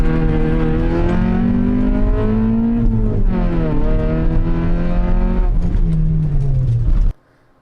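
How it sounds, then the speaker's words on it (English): A Honda Civic launches hard on an autocross course, its loud engine climbing in pitch, dipping briefly at a shift or lift, then rising again continuously before cutting off abruptly near the end. "launching it as hard as I possibly can, which for a Civic isn't very fast"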